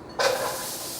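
Onion hitting a heated pan bursts into a sudden hiss that swells quickly, then settles into a steady, close sizzle for the rest of the brief moment.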